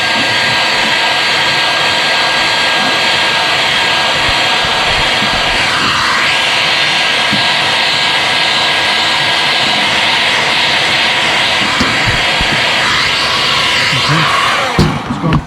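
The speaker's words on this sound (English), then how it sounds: "Okay, fire up the heat gun." A heat gun blowing hot air to soften plastic for a helmet GoPro chin mount, a loud, steady close-up roar with faint handling noises, running continuously.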